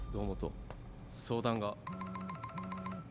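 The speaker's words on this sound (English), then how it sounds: "This is the phone call we saw." A phone rings in an anime scene, an electronic ringtone pulsing in two repeated bursts at the end, preceded by short voices talking, moderately quiet.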